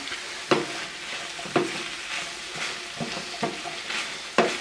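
Beans and greens simmer and sizzle in a pan, with a steady frying hiss broken by several sharp stirring scrapes spaced about a second apart, close and fairly quiet.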